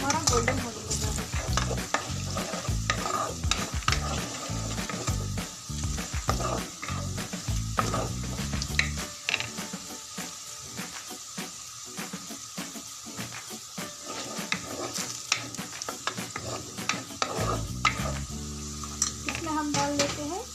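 Onions fry in a pan, sizzling continuously while a spoon stirs and scrapes in steady strokes, loud and close, with the frying quieting briefly midway before vigorous stirring resumes.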